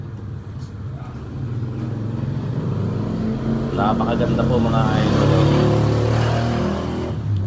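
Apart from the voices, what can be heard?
motorcycles with loud exhausts passing by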